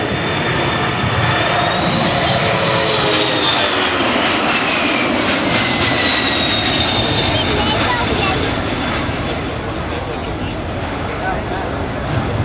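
A RAAF C-17A Globemaster III jet roars continuously as it climbs at an air show, its engine tone shifting slightly over time, steady and close throughout.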